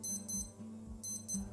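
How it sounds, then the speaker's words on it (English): A Casio W-215 digital wristwatch alarm beeps in two quick pairs of high, thin electronic tones with a gap between them, faint and close, with no voices. "press and hold the start stop button on the top left. And it will give this beeping sound."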